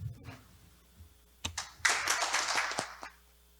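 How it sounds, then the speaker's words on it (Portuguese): A round of applause breaks out at a municipal council plenary session. Scattered clapping starts and swells into a short burst of medium-distance applause, then fades within a few seconds. "a gente dar uma salva de palmas para a Patrícia."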